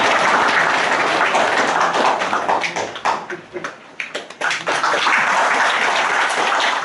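Audience applause at an award ceremony marking the opening of a historical culture park, a broad continuous patter of many hands clapping, thinning briefly midway before swelling again.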